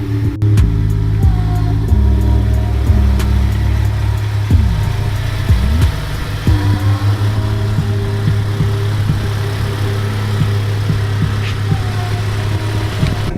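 A car engine idles with a steady low rumble and is blipped several times, short revs rising and falling in pitch, after a coilover install.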